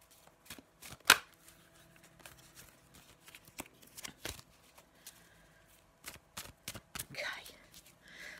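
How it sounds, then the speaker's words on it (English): Faulkner tarot cards are shuffled in soft, uneven bursts of flicking and riffling, close and quiet, with light handling taps in between. "I'm going to have a little shuffle and put down our card from the Faulkner Tarot."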